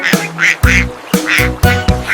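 A voice imitating a duck sings about five bursts of nasal quacks in a lively children's nursery rhyme song about five little ducks. They come in an even, rhythmic pattern, close and loud.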